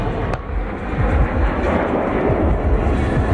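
A MiG-29A fighter jet roars past during an air show at Radom-Sadków, a loud, broad, rushing engine noise that swells slightly and holds steady with no speech.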